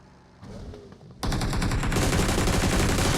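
Rapid bursts of video game gunfire during an online shooter match, loud and dense, starting faintly then jumping to sustained, near-continuous automatic fire that fills the rest of the moment.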